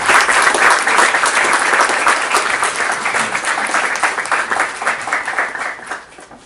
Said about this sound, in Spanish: Muy bien, fuerte aplauso entonces.